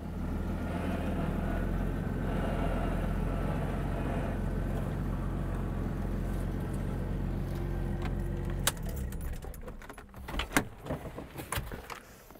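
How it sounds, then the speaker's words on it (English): A vehicle winch pulls the vehicle back down with a steady, close motor whine for about eight seconds. It then cuts off, followed by scattered metallic clanks and rattles. "I'm just going to winch myself back down."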